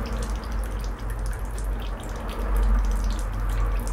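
Water running steadily out of a brass drain-off fitted in a tee on a copper pipe being soldered, a continuous close splashing and trickling flow with no talking.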